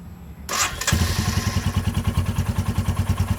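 A Royal Enfield Himalayan motorcycle engine cranks and catches after spark plug and air filter servicing, then settles into a steady, rhythmic idle with a low, chugging putter.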